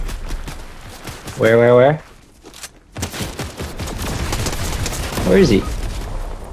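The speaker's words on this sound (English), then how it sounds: "I'm getting shot from across!" Video game gunfire, sharp shots cracking in bursts from a distance amid busy game noise, with players talking over it.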